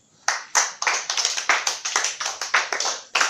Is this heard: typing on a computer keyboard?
no